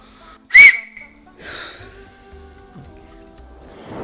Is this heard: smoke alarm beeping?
no